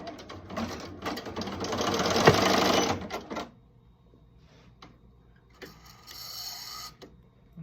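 An embroidery sewing machine stitches an appliqué in a fast, busy mechanical burst for about three seconds. Quieter clicks and short whirring bursts follow, with near silence in between.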